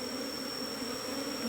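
Honeybees swarm around a beehive as they are moved to a cultivation box, giving off a dense, continuous buzzing drone that stays close and steady throughout, with no voices.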